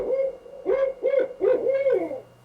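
A spotted owl calls in a series of four rhythmic hooting notes, each with a slight rise and fall, fairly close and clear against a quiet background.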